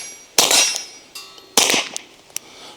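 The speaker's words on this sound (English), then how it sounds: "I'll shoot steel so you hear what that sounds like" Two suppressed Stealth Arms Platypus pistol shots strike a steel target, each a sharp bright clang ringing briefly, followed by a smaller metallic ping, close and loud with no talking.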